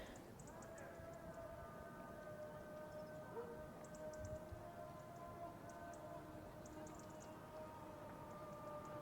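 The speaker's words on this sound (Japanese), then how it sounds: "アザーンが聞こえています。" An Islamic call to prayer drifts from across the town of Berat, Albania, a faint, distant sustained chanting voice over light outdoor ambience, with occasional soft high ticks.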